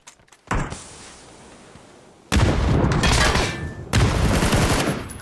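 A grenade detonates in the battle royale shooter PUBG, a sudden loud blast followed by a long rumbling tail, with two more heavy bursts of noise close by after it.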